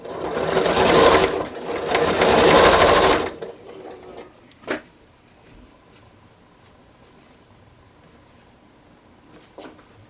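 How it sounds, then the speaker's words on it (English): Domestic sewing machine stitching half square triangle pieces for a quilt block, one loud continuous run of rapid stitching for a few seconds, then stopping, followed by faint handling clicks of fabric and the machine. "now I'm going to sew the other half square triangles to the other side."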